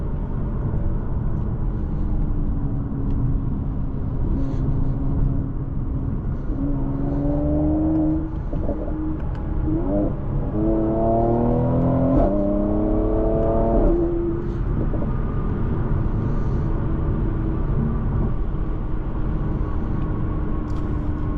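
Engine of a 2020 Mercedes-AMG C 43 revving through rising and falling pitch sweeps inside the cabin, with quick crackling exhaust pops around the peaks, over a constant low road drone.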